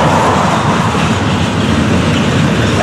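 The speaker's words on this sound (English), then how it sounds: "See the loaded unit train 336" A heavy loaded freight unit train rolls by close and loud, a constant rumbling roar with rattling wheels and clatter.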